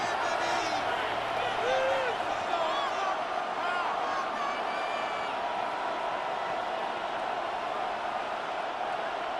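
Stadium crowd in Madden NFL 26 roars as a constant wall of noise at an American football game, with scattered whoops and cheers blending into the din.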